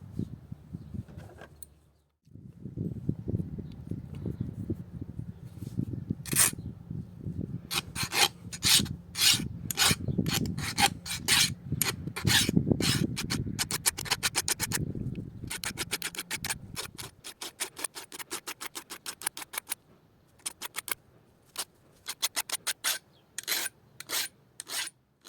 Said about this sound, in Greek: με τη λίμα να φάμε αυτό εδώ, αλλά όχι να το αποδυναμώσουμε